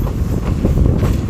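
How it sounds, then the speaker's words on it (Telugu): A train pulls away from a small station stop on the Madurai to Rameshwaram line, a loud close rumble of wheels with steady clickety-clack over the tracks. "ఇక్కడ 1 నిమిషం హాల్ట్ తర్వాత మన ట్రైన్ తిరిగి బయలుదేరింది."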